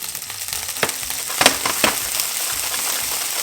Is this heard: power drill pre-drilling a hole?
no